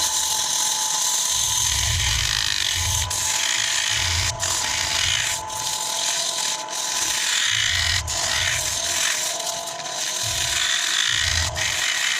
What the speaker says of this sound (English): all I've got to do is get some sealer on the outside without getting it on the paintwork.